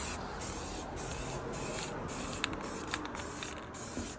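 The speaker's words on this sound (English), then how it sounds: "And then we're just gonna do the exact same thing here and spray the base." Spray paint hissing from an aerosol can onto a rusty outdoor light fixture, a continuous close spray broken by short pauses as the nozzle is released and pressed again.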